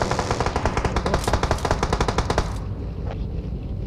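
Rapid automatic gunfire from a shooting video game, loud bursts of closely spaced shots for about two and a half seconds, then stopping into a quieter background.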